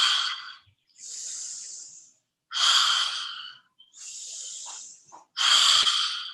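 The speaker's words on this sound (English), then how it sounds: "exhale, inhale, exhale. And as you inhale, think of what you're calling in" A person breathes deeply in and out during a guided meditation: long, airy inhales and exhales alternate steadily, close and clear, with brief quiet gaps between them.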